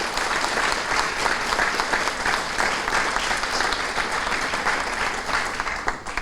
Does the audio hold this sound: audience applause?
yes